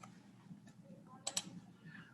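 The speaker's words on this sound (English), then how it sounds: "And I'm going to type in mental health." Faint typing on a computer keyboard entering a search term into a database, a few soft scattered clicks with two sharper keystrokes close together, against a quiet room hum.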